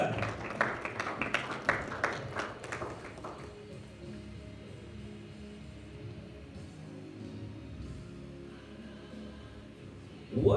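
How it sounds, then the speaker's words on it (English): Church congregation clapping hands together, a dense burst of loud applause-like claps for about three seconds that fades into low room murmur and indistinct voices. "Let's give God a hand clap."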